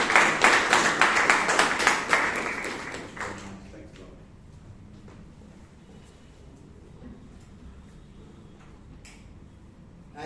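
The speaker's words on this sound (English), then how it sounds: "Can we all join and give a huge round of applause" A short burst of clapping rings out for a few seconds at a Toastmasters meeting in Bangalore, then fades into a quiet room with faint ticks.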